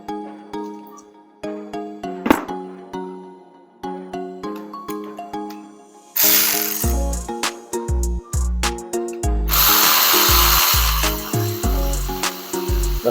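Power tool driving a bolt on a Lexus IS alternator: several short bursts of whirring and ratcheting, then a longer, louder run of close mechanical grinding with sharp clicks.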